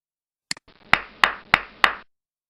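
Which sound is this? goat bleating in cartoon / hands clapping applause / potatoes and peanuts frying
hands clapping applause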